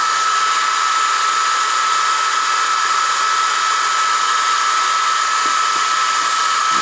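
Diode laser engraver running its framing pass over stainless steel tooling, a steady loud high-pitched whir from fans and motion that holds constant throughout without pause.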